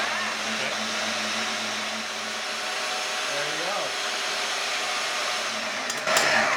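A bandsaw runs with a steady, close whine while cutting a rear bumper, holding an even drone throughout with a brief clunk near the end.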